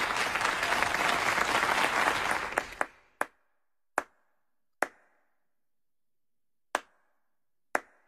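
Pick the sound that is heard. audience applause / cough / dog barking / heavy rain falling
audience applause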